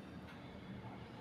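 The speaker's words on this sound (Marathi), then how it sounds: "ट्रेनचा आवाज व रेल्वेची अनाउन्समेंट ही छान ऐकू येते." A train rolls past near a railway station, heard as a faint, steady low rumble of wheels and carriages throughout, with no voices.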